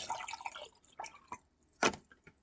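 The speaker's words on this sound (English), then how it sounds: "It's just a little lemonade." Lemonade poured into a glass close up, heard as a few short, splashy liquid bursts and drips separated by quiet gaps, with no talking.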